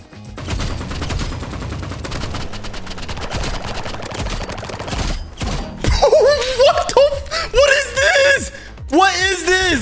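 Rapid bursts of gunfire from weapons in the Roblox game Rivals crackle through the first half, with a player talking excitedly over them and game music and effects taking over later.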